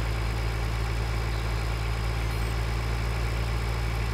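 A tractor engine idles steadily in the Farming Simulator game, a constant low mechanical drone with a regular throb, close and unchanging, with no voices over it.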